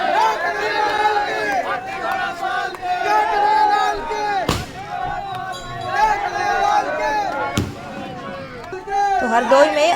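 A dense crowd of devotees at a Janmashtami celebration at the Thakur Dwarkadhish temple in Mathura: continuous chatter, shouting and chanting voices, with a couple of sharp bangs rising out of the din.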